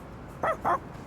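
In Persona 3 Reload, a stray dog gives two quick, close barks in a row. The barks are clear and loud against a quiet background.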